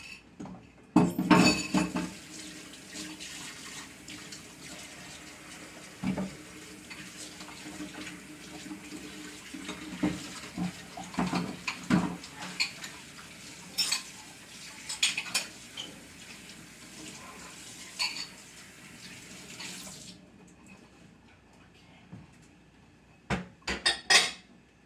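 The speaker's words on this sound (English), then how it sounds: "I'm gonna go wash my hands and wash my bowl" Hands and a bowl being washed at a kitchen sink: tap water runs steadily while dishes clink and knock irregularly, close by, and the water cuts off near the end before a few final clatters.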